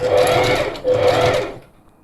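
A sewing machine runs close and loud in two steady bursts of whirring, rapid stitching as it sews a straight line through fabric on a clothing alteration. A short slowdown falls between the bursts, and the stitching stops near the end.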